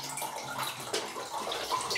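Water poured out of an inverted glass bottle sealed with a piece of sellotape, a short continuous splashing and gurgling stream at close range, steady for about two seconds.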